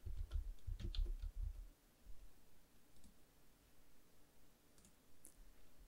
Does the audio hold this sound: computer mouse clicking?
yes